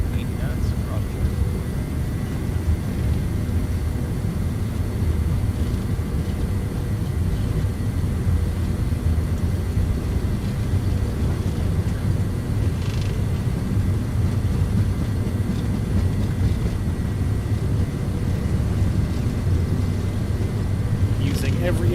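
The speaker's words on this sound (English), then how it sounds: "Takeoff thrust set." An MD-82 jet at takeoff thrust rolls down the runway in Microsoft Flight Simulator, a steady, loud engine roar with rumbling wheel noise that holds constant throughout.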